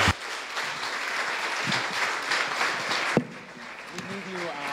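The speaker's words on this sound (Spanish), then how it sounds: "Un aplauso para Paul," An audience at a talk claps for the speaker Paul, a sustained, fairly soft ripple of applause mixed with faint voices, ending in a sharp knock and quieter chatter.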